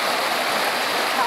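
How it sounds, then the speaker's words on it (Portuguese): A waterfall at Pedra do Navio pours with plenty of water, a loud, steady broadband rush that fills the whole short stretch without pause. "filmar a queda d'água ali para vocês verem"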